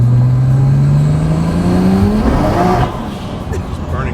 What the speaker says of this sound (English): Just burning the tires.